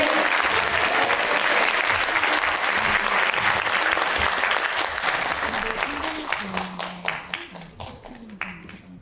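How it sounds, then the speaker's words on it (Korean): Audience applause at a political forum opening, dense and loud at first, then thinning into scattered individual claps toward the end. "다시 한번 큰 박수 부탁드립니다"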